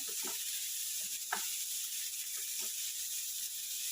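Small shallots sautéing in a little oil in a pan: a steady, close hiss and sizzle throughout, with a few faint clinks and scrapes of a utensil.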